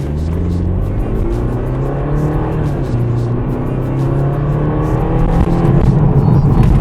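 A car driving, with a steady engine drone and road rumble that swells slightly toward the end, continuous and close as if heard from inside the cabin.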